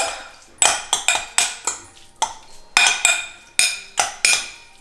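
A metal utensil scrapes and clinks against a bowl while seasoned ingredients are mixed, with a dozen sharp, ringing strikes in an uneven rhythm, close and clear with no talking.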